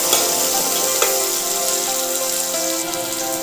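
Vegetables and seeds frying in hot oil for a cabbage curry, a dense continuous sizzle with crackling pops, close and loud throughout.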